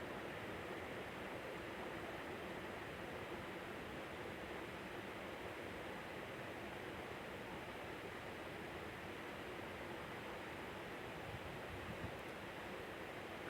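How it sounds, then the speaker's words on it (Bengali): Water poured into a pan of potato curry with fried spices and oil, a steady, dense rushing splash that runs without a break, fairly close and alone. "এখন দিয়ে দিচ্ছি আমি পরিমাণ মতন জল।"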